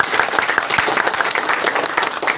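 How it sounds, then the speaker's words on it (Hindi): Crowd at an outdoor political rally for Abdul Bari Siddiqui in Khirma breaks into loud, continuous applause, a dense roaring patter of many hands filling the whole moment. "तालियों की गड़गड़ाहट से"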